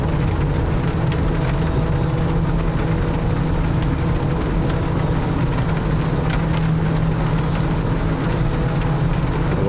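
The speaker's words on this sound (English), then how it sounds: "Why does that sound like rain? Because it is." Steady rain drumming on a DHC-6 Twin Otter in flight in Microsoft Flight Simulator 2024, a dense continuous wash blended with the drone of the turboprop engines, loud and unbroken throughout.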